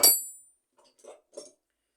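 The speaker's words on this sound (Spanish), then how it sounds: "Martillito de la línea Watfow." A small Watfow hammer from a line of striking tools lands one sharp metallic blow that rings and fades. Two faint, short taps follow after a pause, with no talk.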